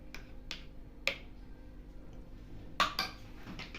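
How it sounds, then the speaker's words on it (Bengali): A spoon stirs a homemade cappuccino coffee mixture in a cup, giving a few sharp, irregular clinks against the cup over a quiet background. "উপর থেকে এরকম করে একটু নাড়িয়ে দেবো"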